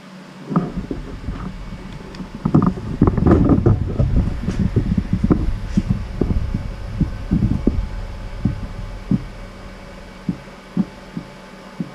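A milling machine's electric motor runs with a slightly slack, wobbling drive belt, producing low rhythmic thumps and throbbing that settle into a steady, evenly spaced beat.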